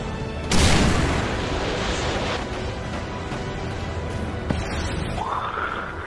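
A predator missile strike in Modern Warfare 3 lands as a single loud, close boom that rolls off into a long rumble, followed by a fainter thud and scattered game noise.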